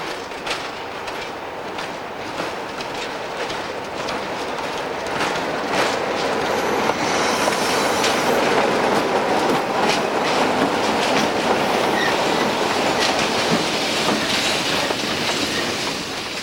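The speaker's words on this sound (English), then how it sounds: "Having brought a train from Luton into the reception road, the 33s are detached and run round." A train hauled by a pair of Class 33 diesel locomotives rolls into a branch reception road, steady broadband rumble with rhythmic wheel clatter and brief metallic squeal, loud and close throughout.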